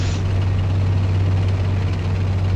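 A helicopter idles in the tank simulation game Steel Beasts, giving a loud, constant low rotor and engine drone with a steady throb and no voices.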